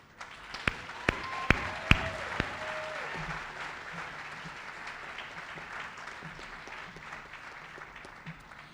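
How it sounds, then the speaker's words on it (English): Applause from a graduation audience at a seminary commencement, a broad, moderate wash of clapping in a large hall, with a few sharp knocks and tonal sweeps early, continuing steadily to the end. "do this, all of us, with a very hearty round of applause"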